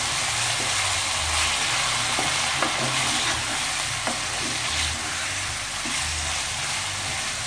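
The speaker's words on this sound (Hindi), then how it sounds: "अब हम इसको थोड़ा सा फ्राई करेंगे।" Masala spices fry steadily in a pan for tikka macaroni, a continuous close sizzle with light scraping strokes from stirring at irregular intervals, no voices.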